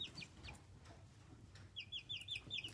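A backyard chicken makes short, repeated clucking and chirping calls close by, bunched near the end over a low, steady background hum.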